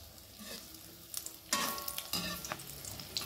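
Egg kofta frying in oil in a pan gives a close, steady sizzle, broken by louder bursts of hissing and scraping as the pan is stirred.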